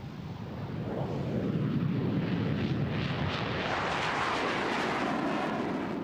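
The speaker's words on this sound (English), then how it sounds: "This is the single-seat version from Poland, Major Stefan Rutkowski." A Polish single-seat MiG-29 fighter roars past at an air show at RAF Cottesmore under low cloud, a loud broad jet rumble swelling within a second and holding strong to the end.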